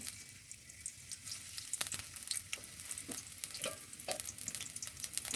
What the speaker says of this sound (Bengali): এখন আমি ঢেঁড়শ ভেজে নেব